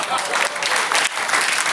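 A studio audience on a French television talk show breaks into brief, full applause, a dense burst of clapping lasting under two seconds.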